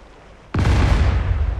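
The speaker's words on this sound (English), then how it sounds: "Boom, go the big guns" Heavy naval guns on a warship in the Cold Waters naval game fire a single sudden, loud boom that rolls out into a long, rumbling decay, with no talk.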